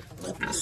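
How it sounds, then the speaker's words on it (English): Baby pig grunting in short rough snorts at close range on a rural farm, under a child's excited chatter and an adult voice nearby. "Touch the pig again."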